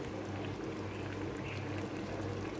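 Paneer pieces slide into a simmering coconut milk curry with banana stem, giving a steady bubbling, pouring-like wash of sound that stays even and close throughout with no talking.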